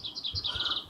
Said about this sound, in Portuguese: Eu fico aqui ouvindo os passarinhos cantando